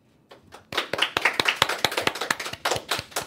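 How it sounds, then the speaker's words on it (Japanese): A handful of people clap for a Japanese comedy duo, starting sparse and quiet, then building into brisk, distinct individual claps close to the microphone. "拍手"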